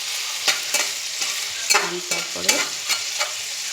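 Prawns fry in a pan with a steady sizzle and repeated clicks and scrapes of stirring. A voice briefly says a few words partway through.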